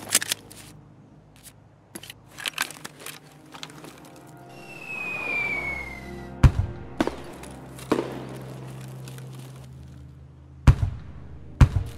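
Sporadic gunshots in Escape From Tarkov crack out in sharp isolated bursts, a few close and loud in the second half, between quieter clicks and a brief whining tone.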